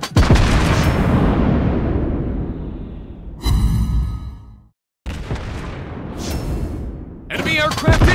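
Anti-aircraft guns blaze aboard a Soviet cruiser, the Admiral Makarov, in the naval game World of Warships Blitz: dense, loud, sustained rapid fire with bursts and a short drop to silence midway, then renewed firing and booms.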